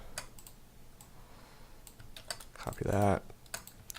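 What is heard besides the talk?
typing on a computer keyboard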